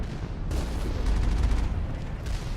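Automatic turret fire in the Mass Effect game, a sustained, heavy stream of rapid booming shots, loud and close throughout the short burst.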